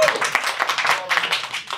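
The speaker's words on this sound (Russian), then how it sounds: "Бурные аплодисменты." Lively applause from a live show audience, dense overlapping claps rising and falling throughout, fairly close and loud, with some voices mixed in.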